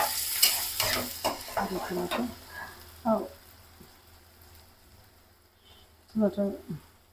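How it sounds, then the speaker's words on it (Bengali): Spice paste for pabda fish bhuna sizzles and fries in a pan as it is stirred with scraping strokes, under intermittent talking. "পাবদা মাছ ভুনার যে পেস্টটা ওটা আমি ভাজতেছি আজকে"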